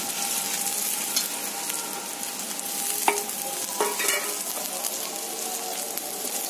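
Ginger and green chilli paste sizzles steadily in a pan while a spatula stirs it, with a few clinks and scrapes against the metal. The frying is close and continuous, with no voices.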